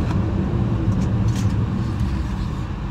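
A 2019 Nissan Rogue SL Platinum AWD SUV brakes to a quick, steady stop, heard from inside as a continuous loud road and engine rumble that eases slightly toward the end.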